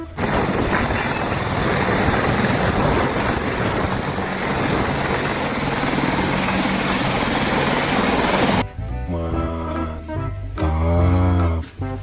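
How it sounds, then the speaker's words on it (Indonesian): Loud, steady rotor and engine roar of a war helicopter, sustained for most of the clip before cutting off abruptly, followed by a short burst of toy-like droning tones. "Ada helikopter perang."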